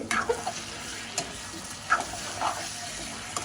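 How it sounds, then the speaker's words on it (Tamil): Pumpkin sautés in a pan with a soft, constant sizzle, broken by a few sharp scraping stirs of a spoon close by, with no voices. "இப்போ பூசணிக்காய் நல்லா வதங்கி வந்துட்டு"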